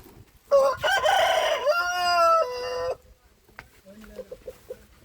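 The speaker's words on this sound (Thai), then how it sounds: "ไก่คัน" A rooster crows once, loud and close, a long rising-then-held call lasting a couple of seconds, followed by quieter scattered clucks and farmyard sounds.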